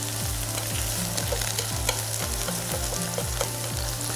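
Shrimp frying in a pan for sweet and sour chili shrimp on toast, a steady close sizzle with a repeating low pulsing hum and faint scraping, no voices.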